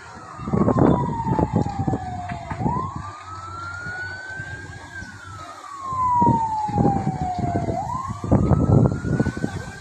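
A fire truck siren wails in long rising and falling sweeps, passing fairly close, over rumbling traffic and scattered clatter, during a house fire in Catmon, Malabon, Philippines.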